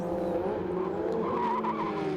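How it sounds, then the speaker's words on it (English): Formula Ford race car tyres squeal under braking during a historic Formula Ford race at the Winton Festival of Speed, a steady, continuous tonal screech layered over engine drone for about two seconds with no talk. "hearing tyre squeal, which is somewhat unusual from a Formula Ford"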